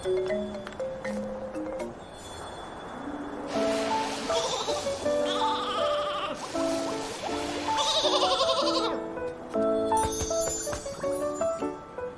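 Flora sheep in the video game Infinity Nikki bleat in a run of short, tuneful, wavering cries over soft, faintly jingling game music, loud and close with no talk.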